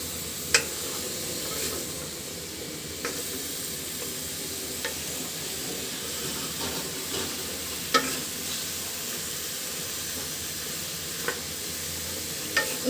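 Fish pieces being stirred and coated with spices in a hot pan, a continuous soft sizzle with scattered scraping clicks of the spoon against the pan, close and steady.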